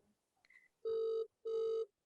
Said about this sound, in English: Can you hear that phone ringing?